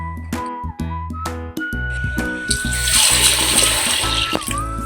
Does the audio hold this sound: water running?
yes